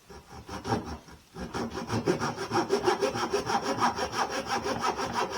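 Hand saw cutting small wedges into wood for a violin, a close, steady back-and-forth rasping that starts after a brief pause and keeps an even rhythm of quick strokes, no speech.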